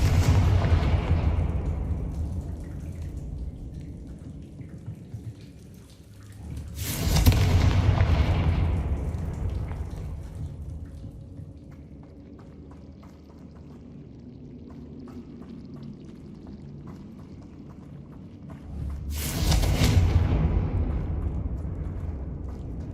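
Two booming fire-spell explosions from Confringo in the video game Hogwarts Legacy, each a sudden loud blast followed by a long rumbling decay, spaced about twelve seconds apart.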